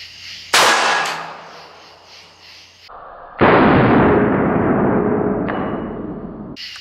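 A .380 ACP Winchester Ranger T-Series JHP round fired into a gel block, two sharp loud reports each followed by a long ringing decay, close and alone without talk.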